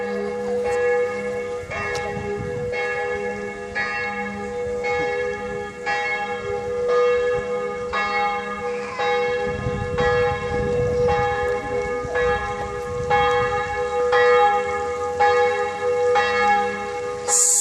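Loud church bells right beside a house keep pealing in a regular rhythm, their strikes blending into a sustained, close wash of ringing tones with faint background activity.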